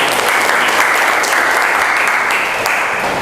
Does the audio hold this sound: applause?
yes